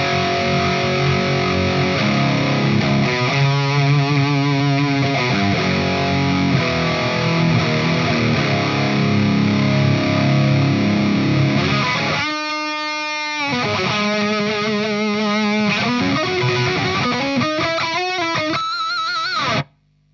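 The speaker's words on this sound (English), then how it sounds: "now I use it like an overdrive, but you could use this as a, like distortion" Heavily distorted electric guitar through a SMIRMOOR SAULE RAT-style pedal plays sustained chords and riffs, loud and gritty throughout, with choppy stabs and bends before cutting off abruptly.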